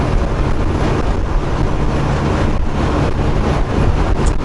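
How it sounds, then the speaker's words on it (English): Strong wind buffets the microphone beside the Columbia River, a loud, steady broadband roar with gusty surges and no voices. "it's so darn windy I couldn't"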